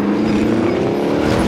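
Vehicle engine in a military-base combat video game, a steady droning motor hum running loud and continuous throughout.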